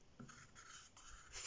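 Pen strokes scratch across paper as a multiplication is written out, a few short soft scribbling bursts close by and quiet, with no voices.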